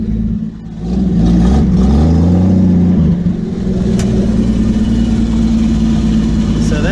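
A Willys truck engine revs in low range with the back tires spinning, a loud, close, mid-pitched roar that rises and then settles into a steady run.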